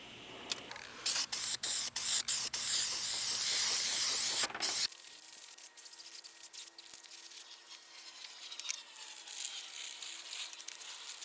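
Aerosol primer and black paint sprayed onto corroded metal on a GMC Yukon or Chevy Tahoe, a loud hissing spray in short bursts and then a long continuous blast that cuts off abruptly, followed by quiet background noise.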